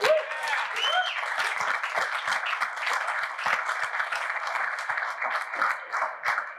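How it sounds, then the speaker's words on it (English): An audience breaks into dense, sustained applause, a steady wash of many hands clapping with a brief whistle or cheer near the start, continuing without let-up. "Can we give Catherine a big round of applause?"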